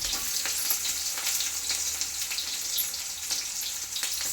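Onions sizzling and frying in hot oil in a pan for fish sambar, a steady close crackling hiss with faint stirring, no voices.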